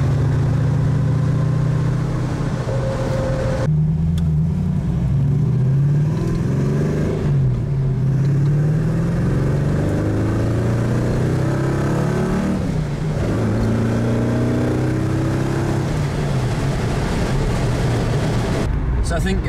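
Steady engine drone of a 4.6 litre Stage 3 MGB GT cruising in fifth gear on a five-speed conversion, heard from inside the car with road and wind noise and people talking over it.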